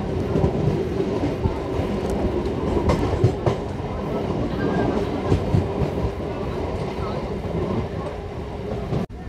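A MEMU express train running from Rajahmundry to Visakhapatnam rumbles steadily from on board, with a continuous loud roar of wheels and carriages and faint rhythmic clatter throughout.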